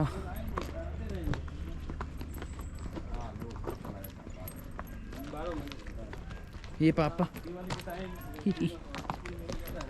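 Hooves clip-clop along a mountain track near Kufri, Shimla, as horses walk in a line, the steady footfalls sitting under nearly constant chatter from riders nearby.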